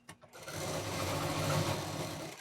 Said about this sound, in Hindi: अब बीच की सिलाई कर देंगे।